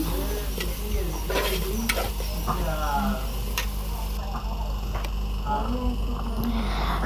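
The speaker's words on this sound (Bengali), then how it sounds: "পেঁয়াজ রসুন ভাজা হয়ে গিয়েছে" Onion and garlic fry in a pot with a continuous sizzle, broken by scraping and clinking as the spoon stirs against the metal, with a voice briefly audible in the background.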